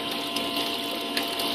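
A bilge pump runs a small auto panner finishing sluice with an auto feeder, giving a steady close whirring hum with water trickling.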